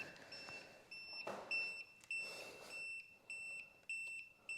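A small electronic device gives repeated short high beeps in an irregular pattern, like a low-battery warning, heard faintly outdoors in a remote spot against steady background noise.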